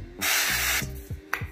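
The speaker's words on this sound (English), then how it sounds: "we're gonna spray it lightly with a little avocado oil spray." A short hiss of an avocado oil spray can, one sustained burst of about half a second, followed by a few soft clicks and a brief second puff.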